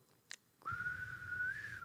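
Person whistling a single sustained, slightly rising tone for over a second, faint and close, preceded by a short click.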